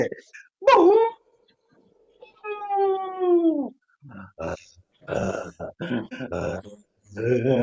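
A human voice imitates dogs and jackals howling at night in a one-person dramatic performance. A sharp yelp is followed by a long, wavering howl, then choppy whimpering and yipping vocal sounds, loud and close.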